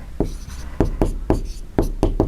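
Pen or chalk strokes writing answers during a Class 10 maths lesson on circles, a series of short sharp taps and scratches in an uneven rhythm, fairly close and clear with no talk.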